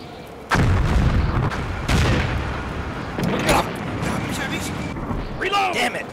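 An American anti-tank gun firing in Combat Mission: Afrika Korps, several heavy, close booming shots with rumbling decay, spaced a second or more apart, while someone talks over the gunfire.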